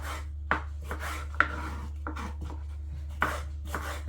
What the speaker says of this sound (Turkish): Şöyle ince ince doğrayacağım arkadaşlar.